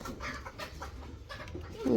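A hen clucks in short, close bursts around a backyard coop, with faint household background noise.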